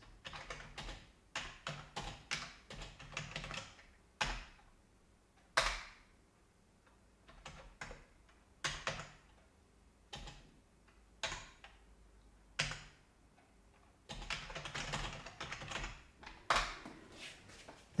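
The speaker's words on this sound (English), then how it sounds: "I will type some text you can hopefully hear when I hit the keyboard" Bursts of clicky keyboard typing on an Onyx Boox Max 3 setup, close by, with rapid key taps in clusters separated by quiet pauses and occasional louder single strikes.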